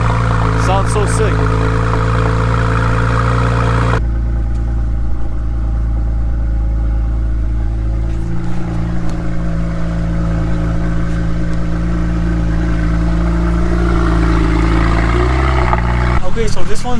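A salvage-auction car engine, warmed up for several minutes, idles steadily and revs up in a few swells, loud and close, with brief talk at the start and end.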